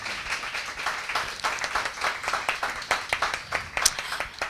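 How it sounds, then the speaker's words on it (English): A lecture audience claps for Dr. Gil Ndi-Shang of comparative literature at an "All the World's a Stage" session, close and fairly even clapping from a modest crowd with no talk over it. "please give him a round of applause"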